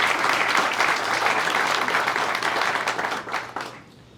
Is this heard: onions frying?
no